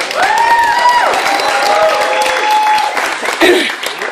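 Guests at a holiday party for a federal club give another round of applause for David: close, lively clapping mixed with whoops and cheering voices, and people talking over it throughout.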